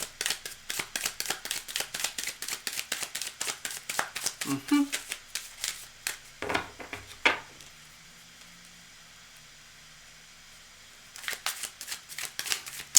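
Rapid riffling of tarot cards in repeated bursts, a pause with a couple of soft taps, then more shuffling near the end, close and crisp.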